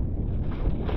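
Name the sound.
strong wind at sea from a boat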